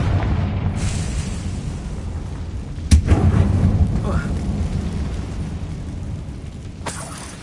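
Confringo blasting curse in Hogwarts Legacy: one sharp explosive burst lands about three seconds in, over steady rumbling game ambience, with a second, lighter crack near the end.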